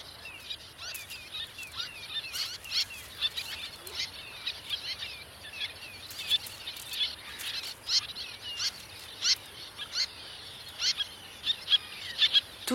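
Terns calling along the Loire river, a busy scatter of short, high chirps and calls repeating throughout against a steady sandy-riverbank ambience, fairly close and with no voices.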